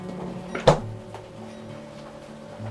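A single solid thud of a faulty refrigerator's door shutting, followed by a low steady appliance hum with a faint rattle.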